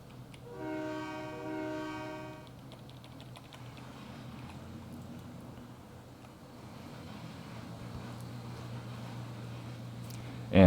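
In a railway simulation video game, a train horn sounds a sustained chord for about two seconds, then gives way to a steady low rumble of the idling locomotive that carries on to the end.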